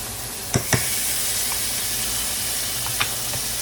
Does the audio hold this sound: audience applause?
no